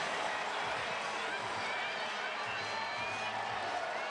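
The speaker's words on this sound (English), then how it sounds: "You can hear the fans in the background after Lawrence Butler scores." Large baseball stadium crowd cheering and roaring after a run scores at the final game at the Oakland Coliseum, a dense, steady wash of crowd noise with a broadcast voice over it.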